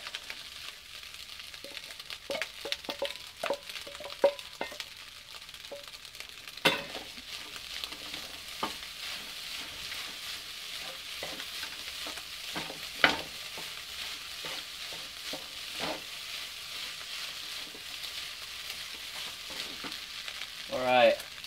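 Egg is stir-fried into fried rice in a pan: a soft, low sizzle with scattered clicks and scrapes from stirring, fairly quiet and close throughout.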